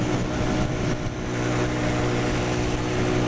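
A Pioneer Torro XF125S motorcycle engine buzzing along at speed, a steady droning hum with wind rush, continuous and even without breaks.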